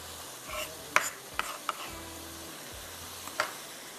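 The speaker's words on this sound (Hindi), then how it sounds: "यहाँ पर हमारे मटर भी गल चुके हैं और इसके अब मिक्सिंग कर रहे हैं।" Peas, potatoes and spring onions for matar pulao are stirred in a hot pan, giving a low sizzle with a few sharp clinks and scrapes of the spoon against the pot, with no one speaking.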